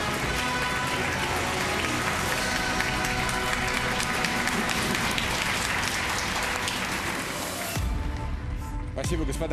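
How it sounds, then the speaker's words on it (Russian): Sustained, dense applause from a studio audience during a talk show. It stays loud and even throughout, then drops off abruptly near the end. "Спасибо, господа хорошие, за ваши аплодисменты."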